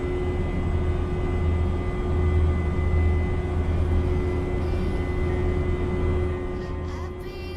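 Cockpit sound of an Embraer E190 airliner in Microsoft Flight Simulator, a steady low engine drone with faint high whine tones, holding level before easing slightly near the end.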